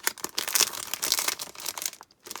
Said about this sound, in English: Sorry for the noise, the crinkling of the packaging.